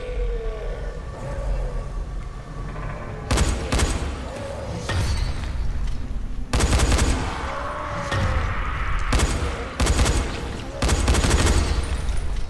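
Gunfire in the zombie video game Dying Light arrives in several loud bursts of sharp shots, heavier clusters around the middle and end, over a steady game ambience with a rising siren-like tone.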